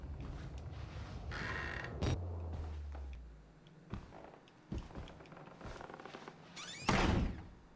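A door slams in the horror video game Outlast, one sharp thud amid low creaks and mechanical clunks, followed by scattered footsteps and thumps, no speech.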